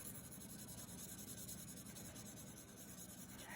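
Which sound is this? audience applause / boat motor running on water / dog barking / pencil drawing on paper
pencil drawing on paper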